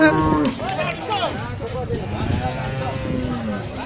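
A cow lows over a busy, chattering crowd at a Qurbani cattle market in Bangladesh, with several voices talking at once around it.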